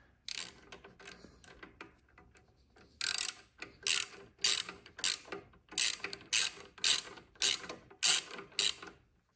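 A hand ratchet tightens the light mounting bolts on a Harley bagger motorcycle, sounding as close, crisp bursts of rapid clicking repeated about a dozen times in a steady back-and-forth rhythm.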